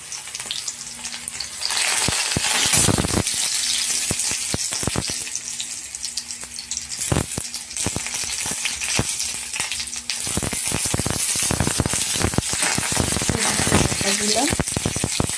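Garlic frying in a hot pan gives a loud, steady sizzle that runs almost the whole time, with scattered stir clatter and short splashy bursts on top.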